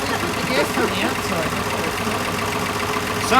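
The engine of a 1959 Ford Galaxie idling rough with an uneven, knocking pulse, recorded close, with speech heard over the running motor.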